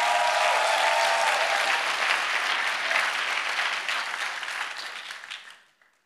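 A church congregation claps loudly and steadily, a dense continuous wash of applause that fades away at the end, with no talking over it.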